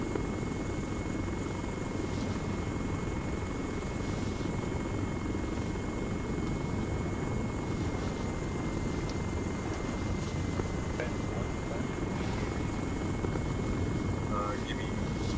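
A helicopter-like aircraft lifts off in Arma, its rotor drone steady and continuous beneath radio chatter and voices talking over it throughout.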